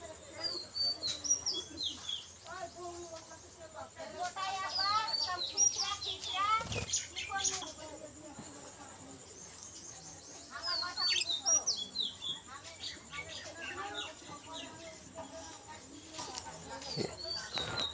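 A colony of budgerigar parrots chirps and warbles in bursts of busy, fairly close twittering, with a steady high hiss beneath and a person talking at times.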